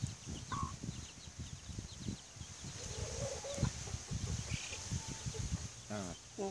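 A small hen clucking near a chick outdoors, soft repeated clucks and chirps mixed with other bird calls, with voices talking over the scene.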